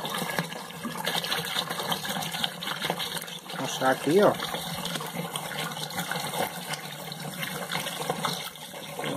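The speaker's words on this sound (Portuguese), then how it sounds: "Eu vou colocando 5 litros d'água, tá? Começar a colocar aqui a água agora." Five liters of water are poured into a large container for homemade liquid soap, a steady, near gushing flow running throughout while someone speaks briefly in Portuguese.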